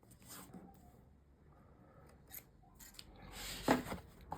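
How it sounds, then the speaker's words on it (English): Scissors cut a small V notch into grey board for an album, with quiet snips and scraping rustles that build to a sharper, louder cut near the end. "from the other side, just cut a little V"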